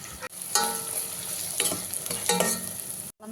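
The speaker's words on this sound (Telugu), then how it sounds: "నేను ఉల్లిపాయలు వేసుకుంటున్నాను" Two onions frying in a pan for a curry, a steady hiss of oil under brief bursts of stirring and scraping, close by and fairly quiet, ending in a short silence.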